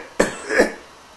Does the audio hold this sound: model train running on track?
no